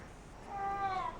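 A single short, quiet meow from a cat, rising in pitch, against a soft background hiss.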